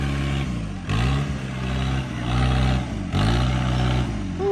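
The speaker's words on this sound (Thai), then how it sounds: "ท่อรถมันจังดัง" A vehicle with a loud, open exhaust revs repeatedly, with about four rising bursts of engine roar separated by brief dips as the throttle is blipped, close and harsh with no talk.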